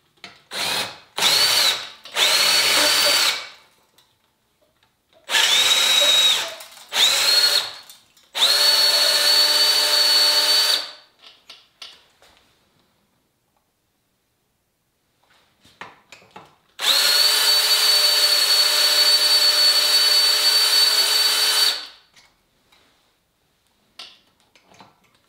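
Several bursts of a power drill boring into a workpiece with a slightly larger bit, each run lasting a few seconds with pauses between, loud and close with no voices.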